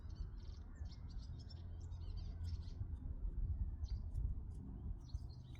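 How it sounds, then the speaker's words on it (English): Small birds chirp and twitter outdoors in short bursts throughout, fairly faint over a steady low rumble of wind or distant traffic. "Listen to those birds if you can hear them."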